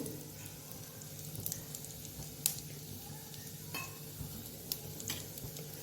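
Soft sizzle of hot oil as asafoetida goes in for spiced bajra rotlo, close and faint, with a few light clinks of a spoon against the pan and no talk.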